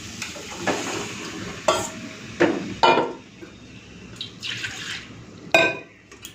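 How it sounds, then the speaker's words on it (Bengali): A little water goes into a pan of ghugni, boiled peas in fried spice paste, making scattered splashes and sizzles alongside stirring, close and moderately loud. "একটুখানি জল দিলাম"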